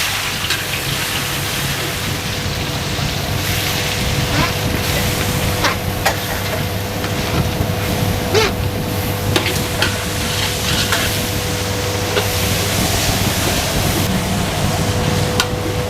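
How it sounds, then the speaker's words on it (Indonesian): Shallots and garlic sauté in hot oil in a pan, giving a steady, close sizzle with scattered crackles and pops, plus a constant low hum in the background. "ini kita tumis sampai bawang-bawangannya ini cukup wangi dan tidak langu atau tidak mentah ya teman-teman"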